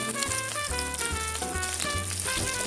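Chopped onions frying in a pan give a steady, close hiss and sizzle throughout, with rhythmic background music playing underneath.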